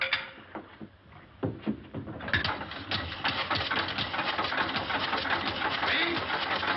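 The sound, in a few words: engine starting and running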